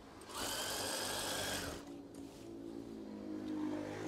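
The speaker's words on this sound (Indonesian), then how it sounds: "Setelah itu jahit." A sewing machine stitches curtain fabric in a close, whirring burst of about a second and a half, then continues more quietly with a lower motor drone.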